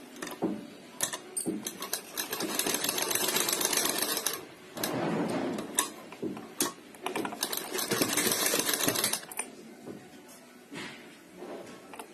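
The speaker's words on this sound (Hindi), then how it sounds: "अब यहाँ से सिलाई लगाएंगे।" Sewing machine stitching around a sleeve for a decorative design, running in long steady bursts with short pauses, close and fairly loud, no talking.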